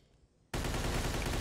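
Gunfire in a Chinatown gunfight in the video game Mafia 2, erupting suddenly after a quiet moment into a dense, loud, continuous roar of overlapping shots.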